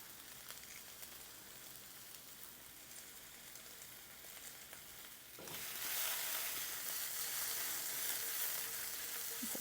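Italian sausage sizzles and fries in a hot pan, a quiet steady crackle that jumps to a louder, denser hiss halfway through and holds there, with no voices.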